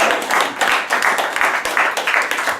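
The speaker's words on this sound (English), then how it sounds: "Round of applause for Publican." A small crowd at a National Party local campaign launch in a country pub claps for the publican, the close, lively applause pulsing in uneven bursts rather than forming a smooth wash.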